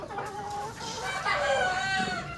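Two brooding hens settled side by side on a nest of eggs cluck and murmur continuously at close range, a steady run of soft throaty calls with no talking.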